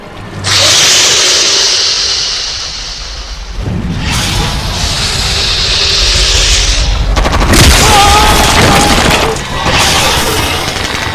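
Heavy bursts of gunfire and booming blasts fill the scene, loud and dense, with a brief lull before the shooting resumes even harder.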